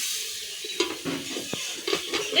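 Potato, spices and garlic-chilli paste frying in a pan are stirred, giving a short scraping and clinking over a low, steady sizzle.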